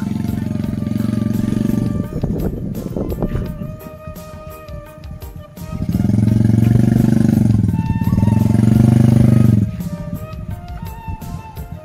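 Motorcycle engine on a narrow village path, loud and close, revving in two sustained bursts with a quieter idling stretch between them.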